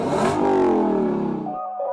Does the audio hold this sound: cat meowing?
no